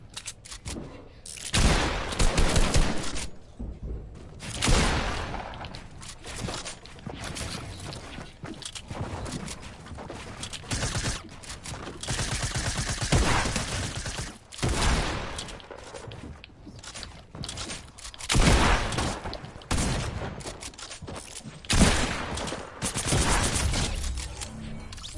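Fortnite gunfire in repeated bursts, loud rattling volleys separated by short pauses, with some footsteps between shots and no talk.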